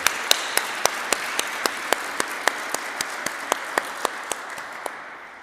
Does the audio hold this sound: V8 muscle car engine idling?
no